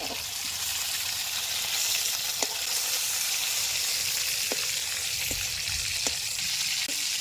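Tiger prawns fry in hot oil with a steady, bright sizzle, punctuated by a few soft clinks of a utensil against the pan.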